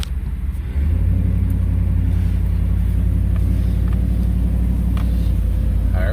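A Chevrolet Silverado 2500HD pickup truck in four-wheel drive, a loud steady low engine rumble that thickens and settles into a constant drone as it starts rolling, heard up close.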